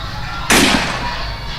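A single sharp shotgun blast erupts close and loud, its broadband burst ringing out briefly before fading back into low background noise.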